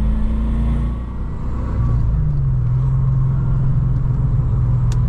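Steady low rumble of a Honda S2000 engine from inside the car on a winding mountain road, loud and continuous with a slight pitch shift partway through, no speech.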